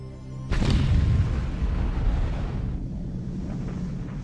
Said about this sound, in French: Après l'explosion, il faut quelques secondes pour que la pression monte et projette en l'air de l'eau et du sable.